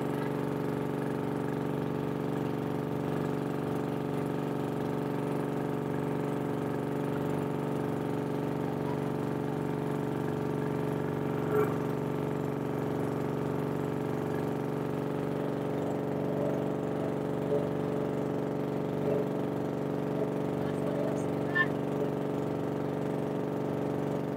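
A steady, droning boat engine runs continuously at a constant pitch, with a few faint clicks over the hum.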